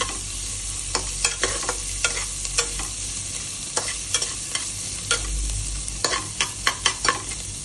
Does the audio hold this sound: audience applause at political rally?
no